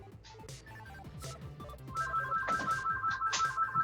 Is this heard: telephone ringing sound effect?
yes